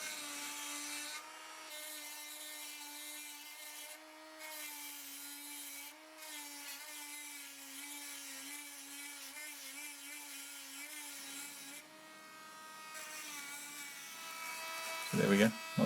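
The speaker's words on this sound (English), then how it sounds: "the next job is to round over the back of the rivet bolts so it looks similar to as it does on the front" The back of hexagonal rivet bolts being rounded over with an abrasive tool, a steady whining grind close by that runs continuously and shifts slightly in pitch, ending in a short clatter.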